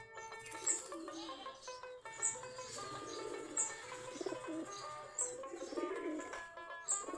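Local Giribaj pigeons at their coop, with soft cooing mixed with scattered chirps and a few bright tweets over a busy, moderately quiet background.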